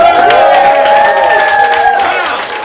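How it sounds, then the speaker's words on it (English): A comedy roast-battle crowd applauds and cheers steadily for the comedians, loud and close, with whoops over sustained clapping that tapers slightly at the end. "Give them a round of applause."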